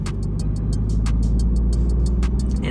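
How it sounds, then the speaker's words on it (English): Peugeot 208 engine revving hard, a steady loud drone heard from inside the car, with regular clicking ticks over the top. "I just get a lot of revs in this car"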